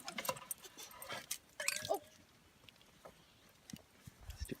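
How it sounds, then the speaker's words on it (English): A dog gives a few short whimpering yips and barks at a distance, brief and faint over quiet outdoor background near a wood-fired glass kiln. "Stupid dog."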